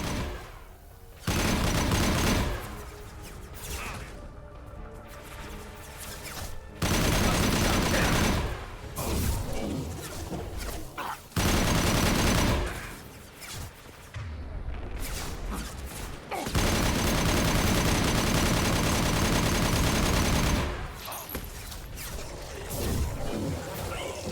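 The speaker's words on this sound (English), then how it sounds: "Firing a high-impact shot." Heavy weapon fire in the Mass Effect Legendary Edition 2 video game: repeated loud bursts of gunfire and high-impact shots, with booming blasts and crashes separated by brief lulls.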